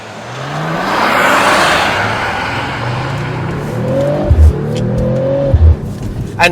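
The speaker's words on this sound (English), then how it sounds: "once the turbo kicks in, this car just shoots off, and it's relentless" A turbocharged Mercedes-AMG CLE53 Coupe accelerates hard, the engine droning loudly and rising through the revs with two quick shift blips near the end, heard close up without talk.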